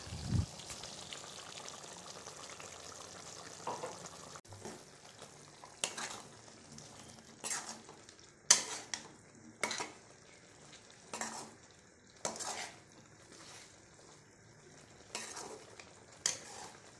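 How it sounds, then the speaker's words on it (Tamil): Ground paste is stirred into chicken liver frying in a sizzling pan, with soft scraping and periodic clinks of a spoon against metal over steady frying. "வேக வச்சதுக்கப்புறம் அரைச்ச விழுதை போட்டு கலக்கிக்கோங்க"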